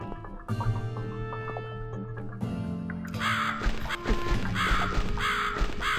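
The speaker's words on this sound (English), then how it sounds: "Oh, you have to follow that raven now." A raven caws repeatedly in the video game The Cat Lady, the harsh cries rising over a droning, eerie game soundscape that gets denser and louder partway through.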